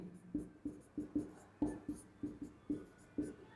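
A pen scratches on paper in about ten short, regular strokes, close and clear, with a brief pause near the middle and no talking.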